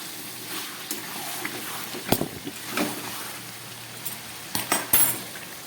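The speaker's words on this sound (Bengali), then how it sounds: "খুব ভালো করে কষাচ্ছি।" Chicken with tomato and a pinch of sugar being fried and stirred in a pan, with scattered metallic clinks and scrapes of a utensil against the pan over a soft background, no speech.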